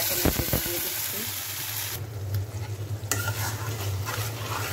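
Fried onions browned until deep red are added to a hot pan and stirred, giving a steady sizzle with scraping spoon strokes. A cooking dish made with chapa shutki, dried fish, and bottle gourd leaves, heard close with no talking.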